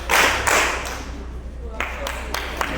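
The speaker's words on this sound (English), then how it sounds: "Clap your hands. Clap your hands." A group at a national youth mentoring program claps on cue in a few loud, separate bursts, the first two close together, then a quieter pause with a low hum before three more sharp claps.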